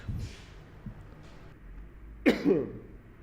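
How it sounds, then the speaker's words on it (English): A short throat clear followed by a single harsh cough, close and fairly loud, with quiet room noise between. "Let me just cough real quick."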